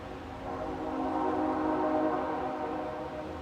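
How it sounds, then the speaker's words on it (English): Train passing at some distance, a steady low rumble swelling toward the middle and easing off, with a sustained horn-like tone over it and no talking. "There might be a train coming."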